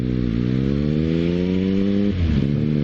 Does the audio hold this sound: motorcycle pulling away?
yes